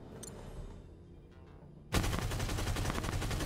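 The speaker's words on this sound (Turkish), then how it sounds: "Bakın hem minigun animasyonu hem de sesi oldukça güzel" Minigun spinning up and firing in the mobile MMORPG Avatar Reckoning, a quiet stretch followed by an abrupt, loud, sustained roar of rapid-fire shots.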